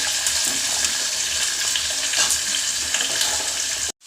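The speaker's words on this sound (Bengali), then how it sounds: "এবারে ফুলকপিটা দিয়ে দেবো আর কেটে রাখা আলুটা সেটাও দিয়ে দেবো" Cauliflower and potato fry in hot oil with bay leaf, cumin and nigella seeds, making a loud, steady hiss close up that runs unbroken and then cuts off abruptly near the end.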